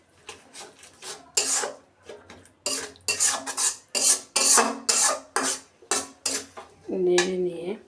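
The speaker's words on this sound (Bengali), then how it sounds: "সব কিছু একটু নেড়ে নিলাম।" Chicken curry with onions stirred in a pan, a run of rhythmic scraping and rubbing strokes of a spatula against metal, close and fairly loud, with a clink near the end and a voice speaking briefly.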